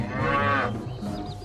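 A cow moos once, loud and close, a drawn-out call that fades into a softer tail with low background rumble.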